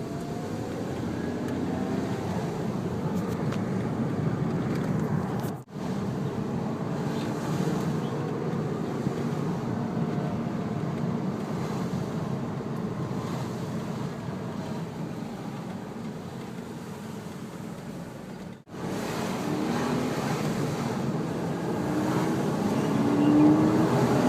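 A 2002 Porsche Boxster 986 with a manual gearbox drives along on a sunny day. Its engine gives a steady, muffled drone under constant wind noise, with two brief drops in sound along the way.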